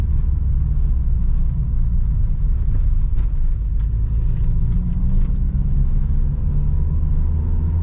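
A car drives with its clutch pressed and brakes applied, giving a loud, steady interior rumble of engine and road noise that holds constant throughout, with no talking.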